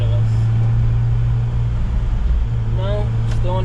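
Inside a moving Subaru Sambar kei van, the engine drones loud and steady while revved out in fourth gear, with road rumble under it. A voice briefly cuts in near the end.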